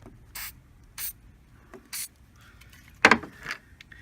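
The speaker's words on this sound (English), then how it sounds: "Try spraying some more of this oil on it." Lubricating oil is sprayed from an aerosol can onto the hood latch of a 2001 Ford Taurus in three short, sharp hissing bursts, followed by a louder metallic clack and a brief final spritz nearby.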